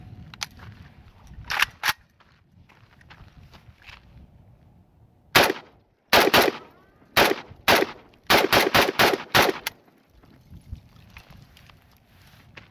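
A Century Arms VSKA AK-47 rifle emptying a magazine outdoors, sharp loud shots in irregular bursts and singles with short pauses between, a few fainter pops early on.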